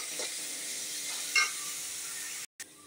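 Ground coconut and onion paste sautéing in hot oil, a steady close sizzle with a brief stirring scrape, cut off by a short silence near the end.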